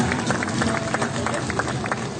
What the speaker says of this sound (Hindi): शाहिद अब्बासी भाई के लिए जबरदस्त ताली।